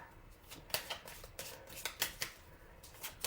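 Tarot cards being shuffled by hand close up, a series of quick papery riffles and soft slaps in an irregular rhythm, faint and alone in a quiet room.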